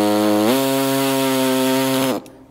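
A power tool with a whining motor cuts plastic tabs and alignment pins flush on a Ford Bronco rear door. It spins up, holds a steady high buzz for under two seconds, then winds down abruptly.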